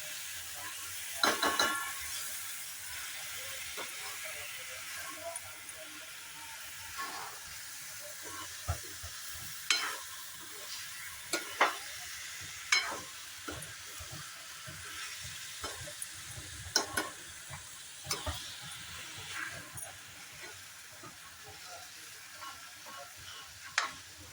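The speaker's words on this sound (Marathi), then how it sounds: "त्याला व्यवस्थित परतून घेऊया" Mutton sautéing in a pan, a constant sizzle and hiss with repeated scraping stirs of a spoon against the metal, close and steady with no talk.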